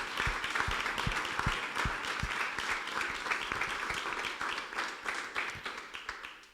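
Audience at a summer-course round table applauds the victims, sustained clapping from a sizable room, steady at first then thinning into separate claps as it winds down.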